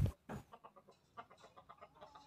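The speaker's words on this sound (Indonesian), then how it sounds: "Terdengar sesekali suara ayam." A fighting rooster lets out a couple of loud, close clucks at the start, followed by a string of softer, rapid clucking calls in a quiet setting.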